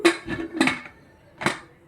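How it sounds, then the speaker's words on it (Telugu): Three close metallic clanks as the lid is set and fitted onto a pressure cooker holding potato paneer curry, two quick knocks followed after a pause by a single firm clank. "మూత పెట్టేస్తున్నాను"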